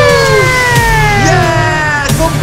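A loud wailing police siren sounds during a video game chase, its falling and rising tones continuous and close, over a low engine-like drone, with no talking.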